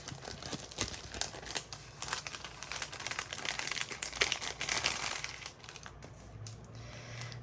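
A large folded reusable bag from a subscription box crinkles steadily for several seconds, close and continuous, with rustling of paper and plastic handling and no speech.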